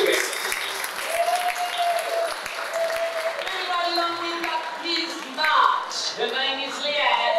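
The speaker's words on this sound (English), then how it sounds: "Give her a round of applause, Sally" Audience applause for a woman called Sally, Miss February, at a Calendar Girls exhibition launch, with a dense crowd clapping steadily throughout while a voice speaks over it and the clapping swells near the end.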